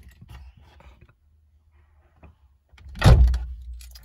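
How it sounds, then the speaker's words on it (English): The door of a Citroen C2 is opened with the ignition off. A few faint mechanical clicks come first, then a single close, solid latch clunk and swing partway through, fading afterward. "I'll open the door."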